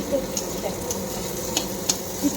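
Onion sizzles steadily as it fries in a pan for a Bengali puti fish curry, with a few sharp clicks of a utensil stirring it across the short stretch.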